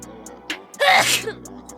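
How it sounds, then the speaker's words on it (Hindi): A single loud sneeze bursts out in an old Hindi film scene, preceded by a short sharp intake of breath and trailing off quickly. "अभी बता ही रहा था कि इसको छींक आ गई।"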